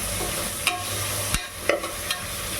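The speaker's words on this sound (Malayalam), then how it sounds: "ഇനി ഇതൊന്ന് നന്നായിട്ട് കൂട്ടി യോജിപ്പിച്ച് ഇളക്കി എടുക്കാം" Spoon stirring a vegetable rice mixture with coriander powder in a pan, several distinct scrapes and knocks against the metal over a soft ongoing sizzle, close and moderately loud.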